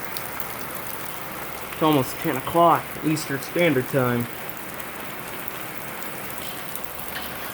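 Heavy, steady rain pours through a storm at night, a dense hiss that runs the whole way, with someone speaking briefly over it near the start.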